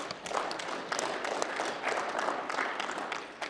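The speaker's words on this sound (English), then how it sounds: "Why don't you give them a good hand of applause?" An audience at a regional state of the region address applauding, dense steady clapping from many hands filling a hall, with a faint murmur of voices beneath.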